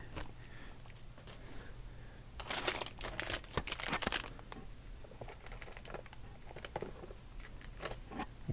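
A cut plastic Ziploc bag crinkled and handled up close, bursts of crackly rustling that cluster in the middle and trail off into scattered faint crinkles, with no talking.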